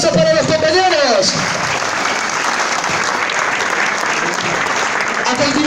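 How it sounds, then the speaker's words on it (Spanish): A crowd in the Carquín prison in Huacho, Peru, bursts into loud, sustained applause after a team presentation, with a brief stretch of voice or music at the start and near the end. "Fuerte los aplausos para los compañeros."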